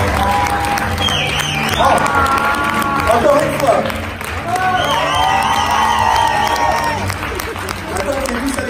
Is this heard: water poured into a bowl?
no